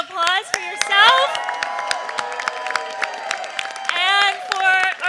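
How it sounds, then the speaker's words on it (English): A crowd at a New York City congestion pricing anniversary event claps and cheers, with bursts of clapping under whoops and raised voices that rise and fall across the clip. "I want you to raise a round of applause for yourself"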